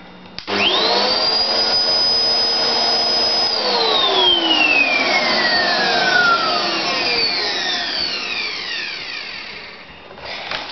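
A Hoover vacuum cleaner starts up with a sharp rising motor whine that holds steady, then slowly falls in pitch as the motor winds down over several seconds, with the broadband suction roar fading near the end.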